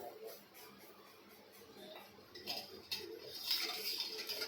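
Ice cubes clink and clatter into a glass of sweet betel leaf sherbet with dried rose petals, a run of small bright knocks that grows louder and busier toward the end, close by.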